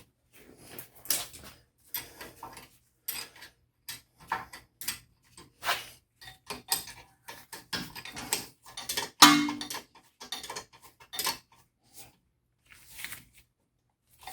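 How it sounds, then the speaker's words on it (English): A 13 mm wrench tightens the brake caliper bolts on an Audi A4 B7 rear brake, making a series of close, quiet ratcheting clicks and metallic scrapes in short bursts with pauses between. "thread them in by hand and use a 13 millimeter wrench, which is what I'm gonna do"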